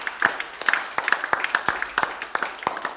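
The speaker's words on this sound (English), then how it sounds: "Give Him a hand clap this morning." A church congregation claps hands during a Sunday morning service, a brisk, uneven flurry of sharp claps in a roomy space, steady for the whole stretch.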